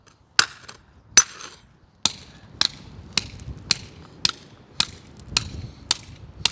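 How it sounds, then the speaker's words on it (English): Hammer blows chipping and pounding concrete outdoors in the early morning, about ten sharp, fairly loud strikes at irregular intervals with short gaps of quiet between them. "After about an hour of pounding away at this concrete, we finally got it down."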